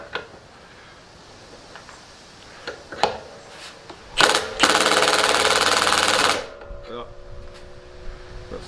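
A Milwaukee M18 FPD2 Fuel brushless cordless hammer drill, set to plain screw mode, whirs loudly in one steady burst of about two seconds, with brief clicks and handling noise before and after.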